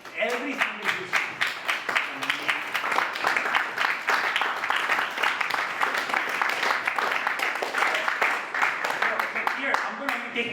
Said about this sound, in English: So I want to give you really a round of applause for that.